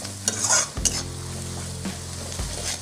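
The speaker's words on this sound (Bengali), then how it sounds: "এবার মশলাগুলো দিয়ে ভালো করে নাড়াচাড়া করে নিতে হবে" Chili powder and salt being stirred into hot oil in a pan for a small-fish curry, with scraping spoon strokes against the metal over a steady sizzle, close and clear.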